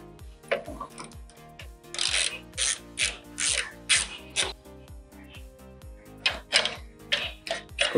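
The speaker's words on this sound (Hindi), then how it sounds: "और अभी आपको सामने का ये बोल्ट खोलना है, इसलिए आपको" A ratchet turning a 10mm socket to loosen a front bolt on a Bajaj Dominar 400 BS6 motorcycle, giving rapid repeated clicking in bursts, close and fairly loud, with no talk.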